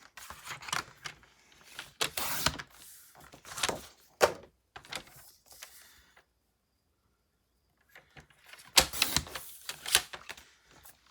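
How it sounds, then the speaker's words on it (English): Card stock being cut down to size on a paper trimmer during a stamping craft class, a few sharp slicing and sliding bursts in quiet pauses with a silent gap mid-way. "Just going to give it a cut down to 4 inches by 5 1/4."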